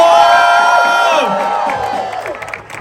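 Crowd at an immigrant rights march cheers, whoops and claps loudly for a speaker, the burst of noise fading gradually over a few seconds.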